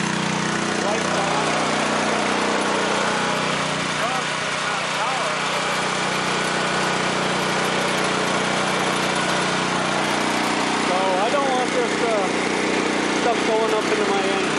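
A small engine running on wood gas from a gasifier drones steadily throughout, loud and continuous with a low hum, while a voice talks over it in the later part.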